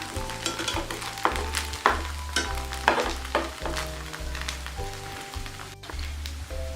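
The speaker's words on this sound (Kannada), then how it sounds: "ಇದರ ಸೈಡಲ್ಲೂ ಸ್ವಲ್ಪ ಎಣ್ಣೆ ಹಾಕಿ ಲೋ ಫ್ಲೇಮಲ್ಲಿ ಇಟ್ಬಿಟ್ಟು ಇದನ್ನು ನೀವು ಬೇಯಿಸಬೇಕು." A Maggi noodle pizza base fries in oil on a low flame, with a steady crackling sizzle and repeated soft scraping or tapping strokes, near and moderately loud with no voices.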